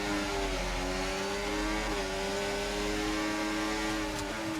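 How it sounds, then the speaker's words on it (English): F1 car in the F1 24 video game launching off the grid at a race start with wheel spin, a steady high engine whine with rising and shifting tones over a rumbling low end, loud and continuous throughout. "Lights out and away we go, getting more wheel spin than Lando Norris."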